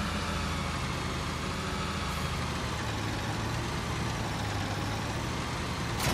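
A Fendt 930 Vario tractor idles steadily in Farming Simulator 19, a constant low engine drone with a broad noisy hiss, heard alone without any talk.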